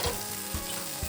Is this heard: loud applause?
no